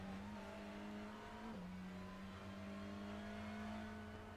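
A TCR Challenge race car at Road Atlanta, its engine choking as it runs out of fuel, holds a steady droning note that briefly dips in pitch midway before settling back, heard alone at moderate distance.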